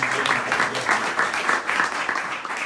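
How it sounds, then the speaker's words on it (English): An audience at a reparations event in St. Louis gives a sustained round of applause, steady dense clapping that fills the whole stretch at a fairly loud level with no voices rising above it. "ask for another round of applause for those incredible presentations"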